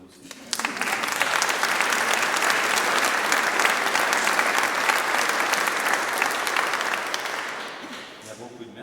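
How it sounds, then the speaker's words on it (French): Concert audience in a parish setting claps for the event's sponsors, a full, loud burst of applause that swells quickly, holds steady for several seconds, then tapers off as a voice returns. "On peut les applaudir aussi"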